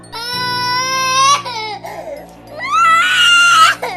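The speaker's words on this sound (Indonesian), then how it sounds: "Sekali lagi, Ani mendengar suara tangisan" A child's loud, sustained crying in two long wailing bursts, part of an eerie horror story set in a building where the child cannot be seen, with a brief gap and faint background hum between the sobs.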